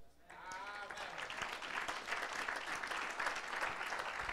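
A church congregation at a French-language sermon breaks into sustained applause, a steady wash of many hands clapping that fills the room for several seconds.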